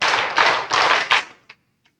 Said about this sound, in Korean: 자, 박수 5번 한번 치겠습니다.